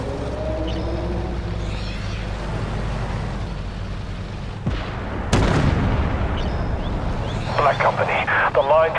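Tank missile launch and heavy blasts in the armored combat game Armored Warfare, a sharp boom midway followed by rumbling explosions, with radio-style voices and engine drone underneath.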